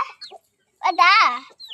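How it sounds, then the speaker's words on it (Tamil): A hen inside a home chicken coop gives a few short, close clucks, then a louder drawn-out cackling call, with brief quiet gaps between the sounds. "எங்க வீட்டு கூண்டுக்குள்ள ஒரு கோழி போயிருக்கு."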